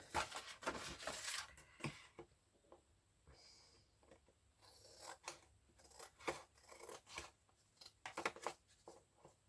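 Scissors snip and slide around glassine paper in a craft journal, a faint, close series of irregular cuts with soft rustling and scraping between them, no talking.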